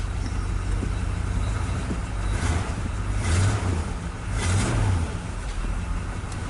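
A 1965 Chevrolet engine idles after years of sitting, a steady low rumble heard up close, with two brief revs swelling in the middle.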